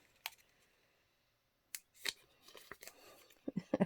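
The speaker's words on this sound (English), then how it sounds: "we're going to cut that white strip off the top" Scissors snip through a white paper strip on a vintage paper-bag journal cover. A few crisp, close cuts come in short irregular bursts between quiet pauses, with no talking.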